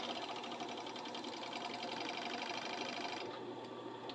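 A serger overlocks fabric edges, giving a fast, steady mechanical chatter of rapid stitches that holds at an even, moderate level throughout without speech.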